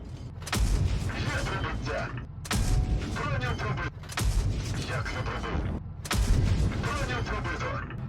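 A tank cannon fires high-explosive shells in a video game, with four heavy booming shots at roughly two-second intervals, each followed by rumbling, mechanical clatter and a voice talking over it.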